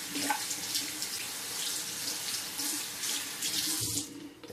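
A tap runs steadily into a sink for rinsing after a wet shave, a continuous close splashing hiss that carries without a break and tapers at the end, with no voices.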